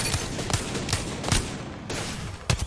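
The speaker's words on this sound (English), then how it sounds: "You see, I almost hit 5 wingman shots there." Wingman pistol shots in an Apex-style video game: about five sharp, evenly spaced single shots roughly every half second over a steady background of game ambience.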